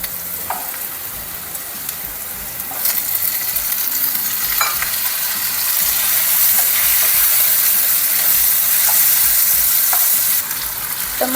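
Tomato frying in oil with turmeric in a pan for raw mango gojju, a loud continuous sizzle with occasional stirring clicks that swells louder partway through, with no talking.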